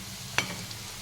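Egg bonda frying in a pan just after being flipped, giving a steady close sizzle with one soft clatter at the start and no voices.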